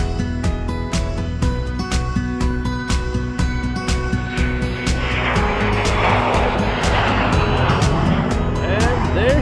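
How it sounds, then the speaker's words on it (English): A Cirrus SR-22 light airplane's engine drones with a steady propeller hum and rhythmic pulsing, heard from nearby while people talk over it. "Cirrus SR-22 that's about to take off."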